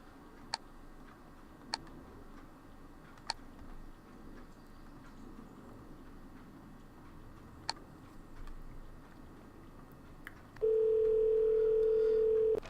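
A phone dial tone from the Draft Day Sports: College Basketball 2017 management game comes in near the end as a steady, loud, unbroken hum after a quiet stretch with a few sparse clicks.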